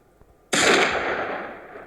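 A single loud sniper rifle shot in the mobile video game Los Angeles Crimes, a sharp close crack with a lingering decaying tail.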